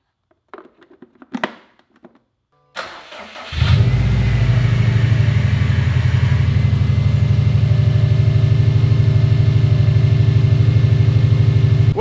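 Subaru STI engine, a transplant from another car, cranks after a few quiet seconds of fiddling, catches, and settles into a loud, steady, throbbing idle that runs close and alone to the end.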